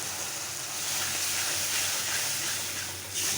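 A spice paste hits a hot pan of fried onion and garlic and sets off a loud, continuous hiss of sizzling that holds steady throughout, with no talking.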